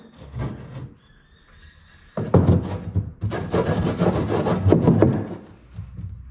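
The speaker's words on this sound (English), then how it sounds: "you can take the timber, run it back and forward until it's all nice and clean" A piece of timber is rubbed back and forth across a ceiling surface during water-damage repair, giving a near, scratchy wooden scraping in uneven strokes after a short quieter opening.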